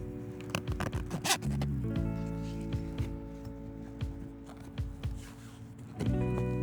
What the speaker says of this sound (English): this is a great time to go ahead and start that side zipper.